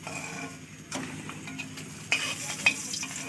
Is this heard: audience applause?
no